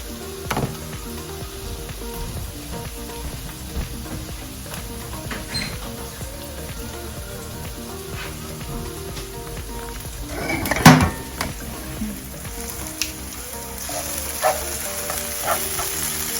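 Onions fry over medium heat in a pan with a soft, steady sizzle, broken by occasional clinks of a utensil against the pan and one sharper clatter midway.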